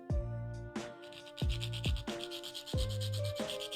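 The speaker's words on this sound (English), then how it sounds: "So we'll just start by sanding things with leftover sandpaper from my little hand sander" Hand sanding with leftover sandpaper from a small hand sander: rhythmic rubbing strokes, about seven close scrapes in a steady back-and-forth pattern, with no talk.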